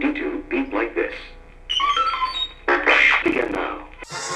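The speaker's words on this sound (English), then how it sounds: "You will know it is time to turn the page when you hear R2-D2 beep like this." R2-D2 robot beeps and warbling chirps signal a page turn in a Star Wars read-along, a short run of electronic whistles and bleeps heard clearly after a spoken line.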